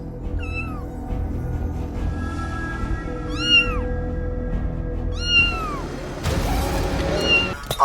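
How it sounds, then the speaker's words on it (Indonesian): A cat meows repeatedly in the middle of a road, several rising and falling cries spaced a second or two apart, heard over a steady low traffic rumble, with a burst of noise near the end. "kucing ya? Ngapain dia di tengah jalan kayak gitu?"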